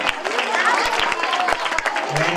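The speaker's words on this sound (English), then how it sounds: "Clap, all of you." An audience at a school results event for Narayana students claps together, a dense burst of applause mixed with crowd voices.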